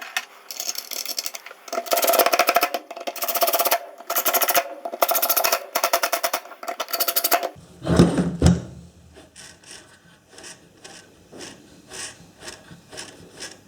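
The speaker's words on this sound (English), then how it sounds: "Put the screws back in." Screws being driven back into the housing of a Makita belt sander during a brush change, heard as loud bursts of rasping, ratcheting turns in a steady rhythm, followed by quieter, evenly spaced clicks.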